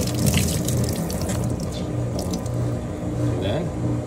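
Water running from a tap rinses dirt out of a car's interior parts during a detailing job, a steady rushing flow with faint mechanical clicks underneath and a voice speaking over it.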